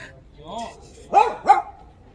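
A dog gives two quick, fairly close barks in succession, preceded by a softer whine-like yelp, with speech present around them.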